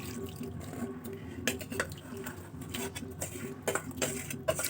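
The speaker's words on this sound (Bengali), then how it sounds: "দুধ আর গুড় যে ভিজিয়ে রেখেছিলাম সেটা আমি ঢেলে দেবো" Milk with jaggery soaked in it is poured into a pan of simmering milk while making Bengali dudh chitoi at home, a steady close liquid pour and splash with a few brief clinks, no talk.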